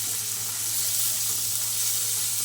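Pointed gourd and shrimp fry in a pan with a steady, close, hissing sizzle that stays even and continuous with no talking.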